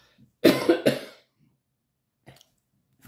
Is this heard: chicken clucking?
no